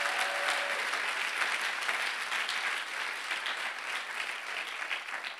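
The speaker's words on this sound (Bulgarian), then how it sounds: "О, ако ръкопляскаш, ръкопляскай, като че вярваш в Исус." A church congregation applauds during a sermon, a dense, continuous clapping that fills the room at steady loudness throughout, with no speech over it.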